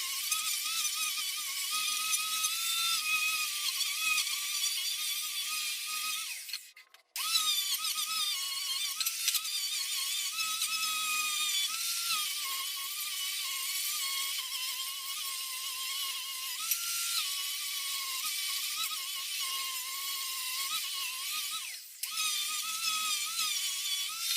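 A steady, high-pitched whining machine runs almost continuously, cutting out briefly twice, a power sander with 40-grit sandpaper grinding on without pause in a workshop.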